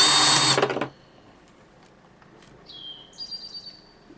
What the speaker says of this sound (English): So drill right into the wood